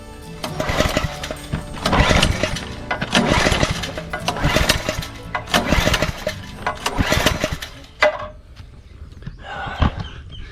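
A small gasoline water-pump engine is yanked with its pull cord again and again, giving about five loud, rough sputtering bursts roughly two seconds apart. It never settles into a steady run and fades to quieter clatter at the end.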